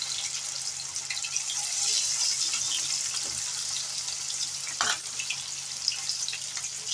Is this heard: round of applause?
no